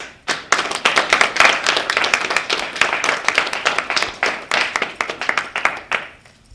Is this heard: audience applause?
yes